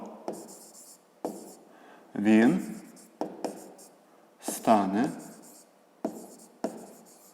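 Pen strokes scratch across a notebook page during a fifth-grade math lesson, in short bursts of writing with pauses between them, while a teacher's voice speaks intermittently.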